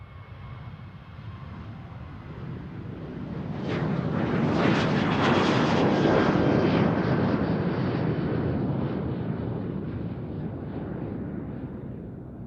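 A KLM airliner departs Amsterdam Schiphol for Stockholm, its broad jet roar swelling to a loud peak midway and then easing into a steady distant rumble.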